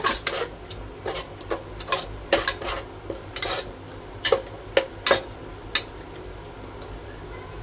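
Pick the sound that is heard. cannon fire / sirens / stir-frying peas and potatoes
stir-frying peas and potatoes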